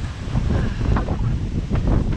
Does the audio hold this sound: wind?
yes